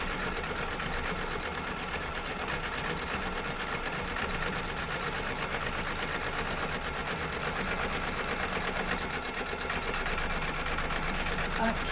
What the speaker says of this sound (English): I'm embroidering onto the fabric